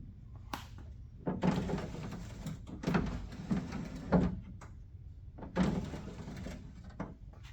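A window glass in a 1959 Galaxie door, fitted with custom door cards, rolls up and down in three scraping, sliding runs with soft clunks between them, close up and with no talking.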